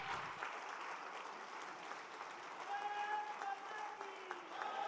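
Audience applause follows a speech by Home Minister Amit Shah at a Jagran forum event. Steady clapping from a large crowd holds for the whole five seconds, and a voice speaks faintly underneath it.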